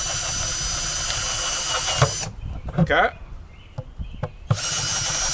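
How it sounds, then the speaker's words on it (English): Power drill boring holes into a plastic Home Depot five-gallon bucket, loud and steady for about two seconds, then breaking off into short bursts and clicks before running continuously again; a brief spoken word is heard. "Get the drill. Make you some holes."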